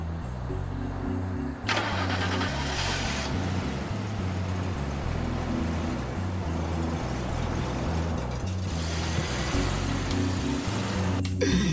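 A car engine cranking and catching, then settling into a low, throbbing idle with pulsing rumble, fairly close, with no talking.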